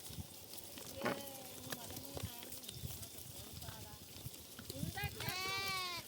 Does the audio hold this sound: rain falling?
no